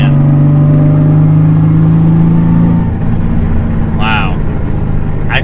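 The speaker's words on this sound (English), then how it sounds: "It literally sounds like a V8, but with turbos." The turbocharged engine of a heavily modified Nissan Z holds a loud, steady droning note for nearly three seconds before dropping to a rougher idle-like rumble, heard from the cabin with brief voice sounds toward the end.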